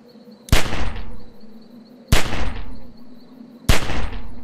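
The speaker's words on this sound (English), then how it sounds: "Remember, don't stop shooting." Three heavy gunshots in a Walking Dead zombie video game, each a sharp loud crack with a booming echo that trails off, spaced about a second and a half apart, with no talk.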